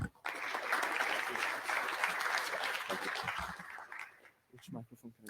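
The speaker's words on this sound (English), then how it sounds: "Let's give him a nice round of applause." A conference audience applauds speaker Fabio Bulgarella for about four seconds, a dense crowd of hands clapping nearby that builds and then fades out, followed by a brief spoken word or two.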